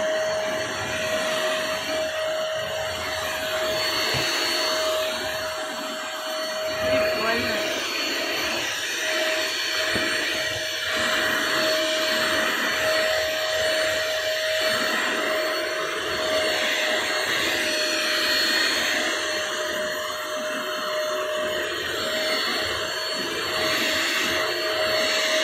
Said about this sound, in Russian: Когда пылесосишь, нажимаешь кнопку.